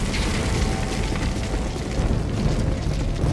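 Heavy naval gunfire explosions in Call of Duty Modern Warfare 2, a dense continuous rumble of booms and blasts rolling on without pause, loud and low throughout with no clear gaps between impacts.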